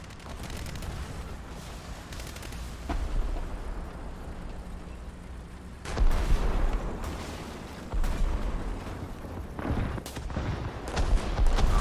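Heavy anti-aircraft fire in a tank and gunship combat game, a continuous rumbling barrage with louder thumping bursts and explosions later on, fairly loud throughout.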